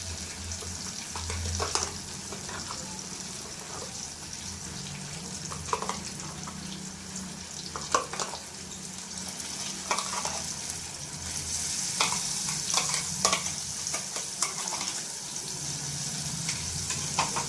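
Coconut and onion masala paste frying in a pan while being stirred, a steady close sizzle with repeated scraping strokes of the spoon throughout.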